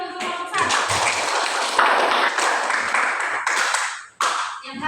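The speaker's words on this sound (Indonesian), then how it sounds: "Tepuk tangan dulu untuk kelompok 1." A classroom of students claps for the first group about to present, a sustained burst of many hands clapping close by that briefly drops out near the end before resuming.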